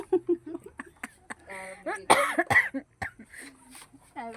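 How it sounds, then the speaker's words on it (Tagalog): A person coughs a couple of times close up, surrounded by short sung or spoken vocal sounds. "Aba, inubo na ako eh."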